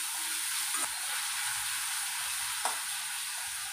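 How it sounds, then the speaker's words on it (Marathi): Chopped onion sautés in a pan with a steady, even hiss, close and unbroken, marked by two faint stirring clicks. "व्यवस्थित कांदा परतून घेऊया"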